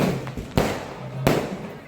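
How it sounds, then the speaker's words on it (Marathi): Two sharp firecracker bursts at a village yatra festival in 2026, each a loud near crack with a short crackling tail, spaced about half a second apart over a background of low murmuring crowd noise. "या वर्षी जास्त फटाके फोडण्यात येत आहेत."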